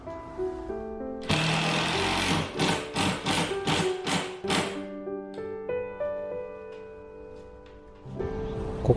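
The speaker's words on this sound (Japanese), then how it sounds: "天気も良かったので粉塵を気にしなくていい外でカットしました。" Plasterboard being cut outdoors during a DIY renovation of a 50-year-old house: a burst of rapid, rhythmic rasping strokes, fairly loud and close, followed by quieter scraping and tonal background sounds.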